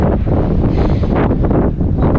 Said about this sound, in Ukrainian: Чуєте, який вітер?